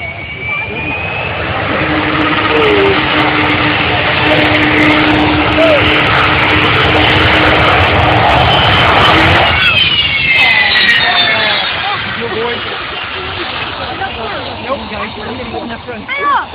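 The loud, sustained jet engine roar of an Avro Vulcan bomber builds in power for about ten seconds as it revs for takeoff, then eases to a rumbling idle with crowd voices audible beneath, at RAF Leuchars in 2008.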